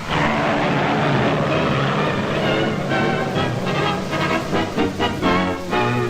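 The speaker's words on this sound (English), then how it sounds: "The heavily loaded plane is fitted with JATO jet units for quick takeoff and big payload." A heavily loaded DC-3 airplane fitted with JATO jet units takes off in 1946 Nicaragua, its engines roaring loud and continuous with a pulsing propeller beat, with no voices over it.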